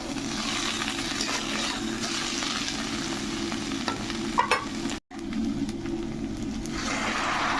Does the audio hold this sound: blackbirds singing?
no